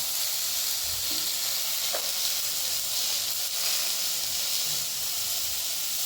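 Tomatoes sautéing in a pan for chutney give a steady, close sizzle and hiss, with a few faint stirring knocks underneath and no talking.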